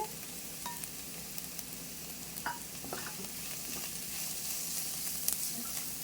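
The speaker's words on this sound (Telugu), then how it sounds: "ఇప్పుడు దంచి పెట్టుకున్న తెల్లగడ్డలు వేసేద్దాము" Crushed garlic frying in a pan, with onion in the mix, for a Telugu amaranth-leaf fry: a steady close sizzle with occasional sharp pops and crackles, no talking.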